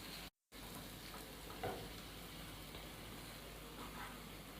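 Masala fries in oil in a cooking pot, a steady, fairly quiet sizzle and crackle close by, with a brief break and a faint stir partway through.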